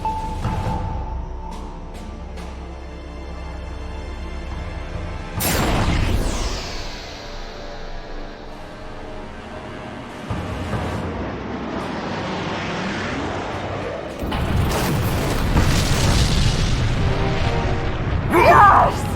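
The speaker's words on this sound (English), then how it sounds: "The Illuminati mothership's main generator bank is in our crosshairs, Kali. A direct hit'll stamp these fuckers out, once and for all." Animated sci-fi battle as weapons fire strikes an alien mothership's generator bank, with whooshing blasts, rumbling booms and a large explosion building toward the end, amid a film score and brief spoken dialogue.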